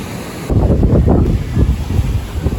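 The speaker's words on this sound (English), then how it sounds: "The waves can get quite big and the currents can be quite strong" Ocean surf at a beach in south Kerala, with waves breaking and washing in a rough, surging roar close to the microphone, plus some wind buffeting.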